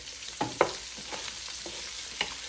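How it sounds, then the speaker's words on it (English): Onions sizzle steadily in a pan with cabbage and sausage, with a few scraping clicks from stirring over a brief, even frying hiss. "I'm going to throw little onions in there, just like that."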